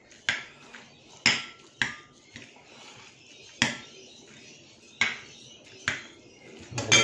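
Cooking utensils clang and scrape against a metal pan or bowl while egg noodles are tossed with sauce, a series of sharp metallic clinks at irregular intervals with softer stirring between.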